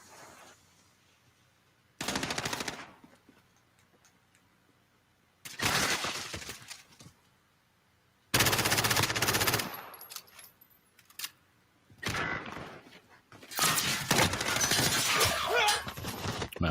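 Rapid bursts of automatic gunfire in a shooting video game, four or five loud clattering volleys of a second or two each, separated by quieter gaps.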